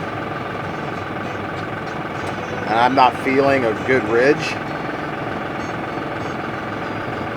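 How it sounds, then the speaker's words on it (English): A tractor engine idles steadily with a low, even droning hum throughout, while someone speaks briefly over it. "So I'm gonna shut the tractor off"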